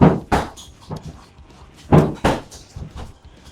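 Several dull, deep thuds of heel kicks landing on a heavy punching bag, spaced irregularly, each with a short muffled impact and slight rattle.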